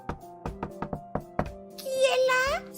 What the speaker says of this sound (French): Arrivé devant la maison, il frappa à la porte.